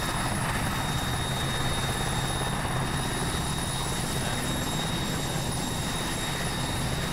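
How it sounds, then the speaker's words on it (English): Military helicopter in the game Arma, a loud, constant close-up rotor and turbine roar that fills the whole stretch without a break, with no talking. "I was down and out before the helicopter even"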